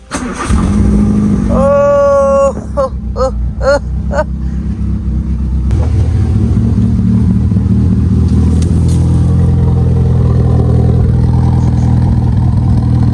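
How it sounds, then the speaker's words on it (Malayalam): A vehicle engine starting after sitting unused for a long time, with a few cranking whirs before it catches and settles into a steady, loud running idle that continues to the end. "ആഫ്റ്റർ ലോങ് ടൈം നമുക്ക് വണ്ടി സ്റ്റാർട്ട് ചെയ്ത് നോക്കാം."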